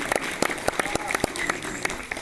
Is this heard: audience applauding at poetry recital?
yes